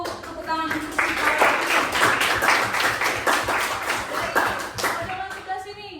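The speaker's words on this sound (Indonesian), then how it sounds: "Berikan dulu tepuk tangan untuk si" A classroom of students claps hands together for a classmate, a dense burst of many overlapping claps sustained for several seconds, with children's voices and chatter mixed in around the applause.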